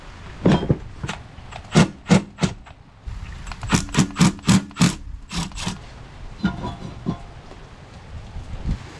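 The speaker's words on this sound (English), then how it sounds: "I'm gonna go ahead and pop the rotor out." Brake rotor being worked off a junkyard car's hub, heard as a series of sharp knocks and scraping metal-on-metal rubs in uneven bursts, close and fairly loud, with no talking.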